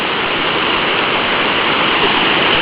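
A coastal waterfall in Brazil's north shore region, a dense, steady rushing roar of falling water, close and continuous with no voices.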